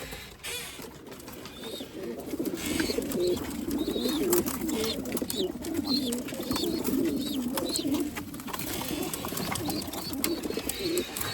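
Erzurum white breeding pigeons coo steadily and close by in their loft, soft overlapping throaty calls running throughout with no one speaking.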